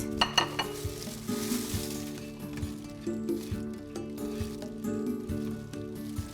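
Sauce with a little zarishk (Persian barberries) sizzling in a pan while being mixed, a soft crackle under clinks and scrapes of a utensil against the pan, with a low steady hum behind; no voice.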